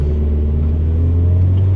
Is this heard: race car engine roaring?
yes